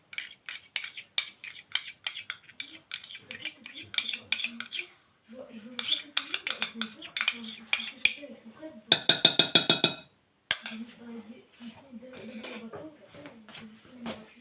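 A utensil stirs flour, oil and plain yogurt together in a bowl, giving quick rhythmic clinks and scrapes against the bowl in bursts, with brief pauses between and a flurry of faster taps near the end.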